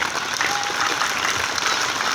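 Sustained audience applause at a Pakistani women's educational society event, a dense, steady clatter of many hands clapping throughout with no pauses.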